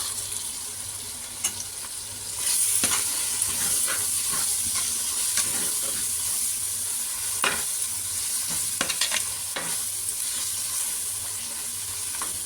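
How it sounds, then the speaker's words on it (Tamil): Biryani masala with salt, fresh coriander and mint sautéed in a clay pot, giving a steady close sizzle with scraping stirs and occasional spoon knocks against the pot, heard alone without talk. "நல்லா வதக்கணும்."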